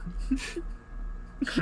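A person sneezes twice, two short breathy bursts about a second apart, fairly close, with faint voices in the background.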